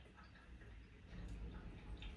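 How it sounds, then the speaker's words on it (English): A CONOPU 4-litre humidifier's small water pump runs quietly and steadily, a soft low hum with faint watery trickling, heard close and alone. "It's very silent. You can hear just a pump."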